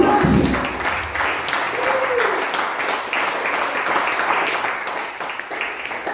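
A church congregation applauding as an offering of praise, with dense, sustained clapping that stays loud throughout and a brief voice calling out near the start.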